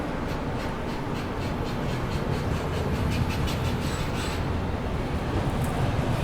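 Gitanjali Superfast Express rolling along the Howrah–Mumbai main line near Akola Junction, a steady loud rumble with rhythmic wheel clatter over rail joints, heard from on board with no talk.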